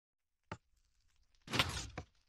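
Minecraft doors close in the game: a short clack, then a longer, louder sliding shut with a final knock, sharp and isolated against silence.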